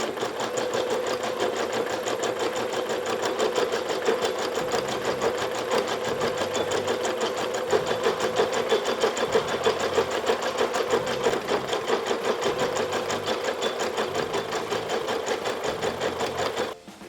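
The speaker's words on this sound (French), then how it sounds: "la machine passe à la lettre suivante en coupant automatiquement le fil" A Janome Memory Craft 1000 embroidery machine stitches a name, a rapid, even mechanical whir with a steady tick, loud and close and continuous for the whole stretch.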